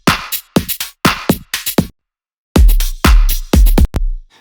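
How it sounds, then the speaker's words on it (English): Synthetic kick drum built in the Kick 2 plugin for a house track: a short series of punchy hits with bright top-end clicks, followed after a pause by four deeper, boomier kicks with strong sub weight, loud and isolated. "has quite a nice kind of top end kick that sounds like this"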